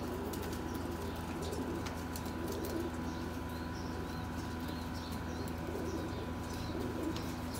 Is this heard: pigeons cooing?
yes